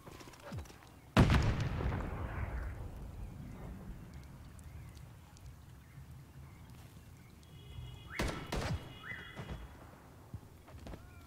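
A grenade explodes in Call of Duty: Modern Warfare III hardcore team deathmatch, one sharp loud blast with a rumbling tail that fades over several seconds. More distant gunfire bursts crack later amid ambient battlefield noise.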